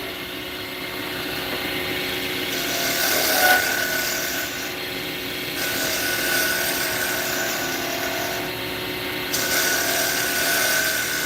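A walnut pen blank is sanded on a lathe, giving a steady close rubbing hiss over the spinning drone, with slight changes in pressure across several passes.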